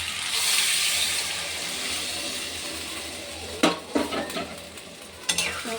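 Water goes into a simmering fish curry with taro in a pan, setting off a loud hissing sizzle that fades into quieter bubbling, followed by a few sharp clinks and scrapes of stirring.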